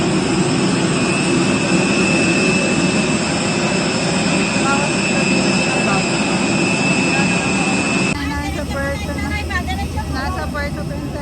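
Loud, steady jet engine roar fills an airline cabin on a flight to Puerto Princesa, a constant broadband drone with a high whine, then a sudden shift in tone as voices talk over it.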